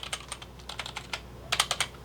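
A small membrane gaming keyboard is typed on in a quick, uneven burst of about a dozen soft, muffled keystrokes, close up and without voices.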